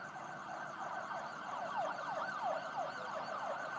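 An ambulance siren wails along a street at night, distant and fairly faint, its rising and falling sweeps repeating steadily for several seconds with low traffic hum beneath.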